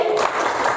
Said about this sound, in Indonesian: Kalau gitu kita beri tepuk salut.